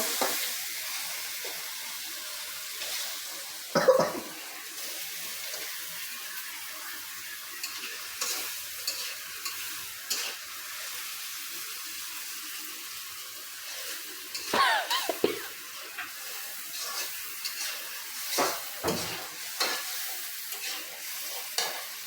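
Turmeric powder stirred in a frying pan with dried chilli powder: a steady low sizzle under repeated scraping strokes of a spatula, with a few louder clanks of utensil against the pan.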